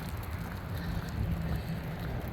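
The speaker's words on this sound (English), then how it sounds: "It is windy and cold." A cold wind blows outdoors on a morning outside a country store restaurant, a steady low rumble and buffeting against the microphone.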